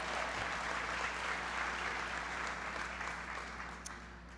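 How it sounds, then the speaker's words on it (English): A large crowd applauds Congressman Mel Watt at a presidential speech on the economy, a broad, even wash of clapping from many hands, distant and fairly quiet, fading slightly toward the end. "So give Congressman Watt a big round of applause"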